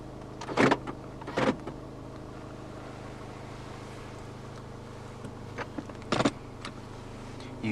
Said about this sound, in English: Right down here, you do have your window controls. They are fully automatic in both directions.